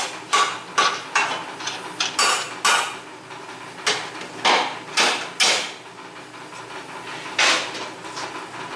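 Metallic clinks and ratcheting taps as a nut is started on the A-frame bolt of a 2001 Mustang, a dozen or so sharp bursts in an irregular rhythm, close and moderately loud with no talk.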